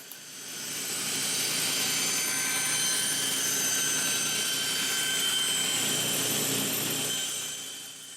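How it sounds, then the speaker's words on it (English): A woodworking bandsaw cuts wood freehand with a slow feed, making a steady, loud whirring roar that swells in, holds evenly and tapers off at the end. "By going slowly, you can freehand this process, as you can see here, and I have found that the bandsaw is the best tool for this."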